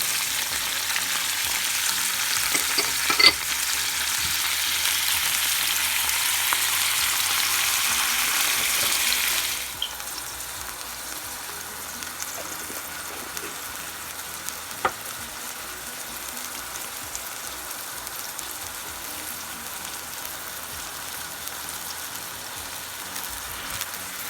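Tomatoes and garlic fry for bacalao guisado, a bright loud sizzle for the first ten seconds that then drops to a quieter, steady simmering hiss with occasional utensil knocks, no voices.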